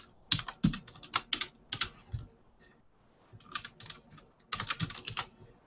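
Computer keyboard typing in bursts of quick close clicks, with short pauses between runs of keystrokes, fairly quiet and with no speech.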